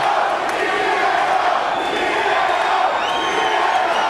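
An arena crowd at a Georgia MMA fight between JJ Mix and Diego Saraiva roars and chants steadily for Diego, a dense, continuous wash of voices filling the space at even loudness throughout.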